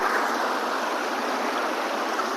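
Water rushing steadily at a hidden waterfall in Telangana, a continuous broadband roar that stays loud and close the whole time with no voices over it.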